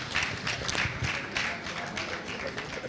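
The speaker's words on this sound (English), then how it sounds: "Can we please give this gentleman a resounding round of applause?" An audience at a Children's Day debate event claps for a guest, a sustained, moderately quiet wash of many hands with no talk over it.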